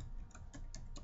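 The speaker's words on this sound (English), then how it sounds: "Let me type it out" A few quick keystrokes on a computer keyboard, light close clicks in a short irregular burst over a low background hum.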